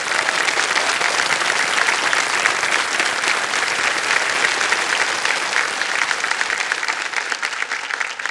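A studio audience on the game show Kaun Banega Crorepati breaks into loud, sustained applause, many hands clapping in a continuous dense wash that barely dips for about eight seconds.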